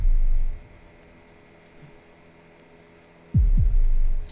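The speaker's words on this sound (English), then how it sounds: "If my heartbeat increases, I'm going the right direction" A deep, booming heartbeat pulses in the horror game After Logout, a low throb at the start, then silence with faint hum, then two heavy double beats near the end.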